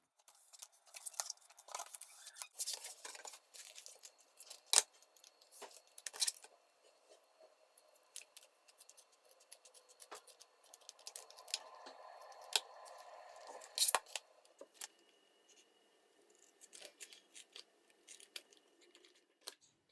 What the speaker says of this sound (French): pliez-la en sa moitié, puis coupez les deux extrémités pour que les côtés soient bien droits